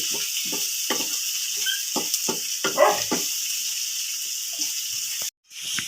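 Pork adobo with bitter melon (ampalaya) sizzles and is stirred in a pan, a steady frying hiss under repeated scraping strokes of a utensil, heard close.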